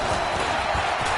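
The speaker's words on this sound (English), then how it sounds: "the crowd getting into it as we come up on a big 3rd down" A stadium crowd in a football video game roars steadily, a loud and dense wall of cheering that stays constant as the game builds toward a big third down.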